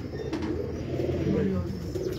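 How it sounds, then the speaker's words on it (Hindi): Ambala pigeons cooing on a rooftop in Karachi, a soft, steady low murmur of coos running continuously under a faint background hum. "ये अम्बाले वाले कबूतरों"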